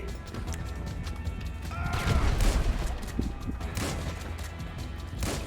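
Gunfire in the video game GTA V, loud repeated bursts of shots mixed with crashing and other game noise, busiest in the middle of the stretch.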